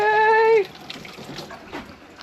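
Water rushes at high pressure from a newly installed off-grid water heater, a steady broadband hiss that follows a brief high, tonal voice-like cry at the start.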